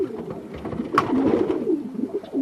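A pigeon held in the hand coos softly and steadily at close range, a low throaty burble lasting a couple of seconds.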